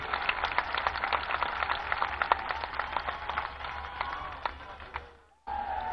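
A crowd at a Vijaya Dashami Ramlila celebration gives loud, sustained applause for a guest, dense clapping that fades out near the end before a brief cut.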